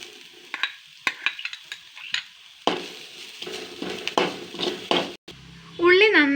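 Chopped onion sautés in a pan with ginger, garlic and green chilli, giving soft sizzling broken by sharp clinks and scrapes of a stirring spoon against the pan, ending in a brief burst of warbling sound.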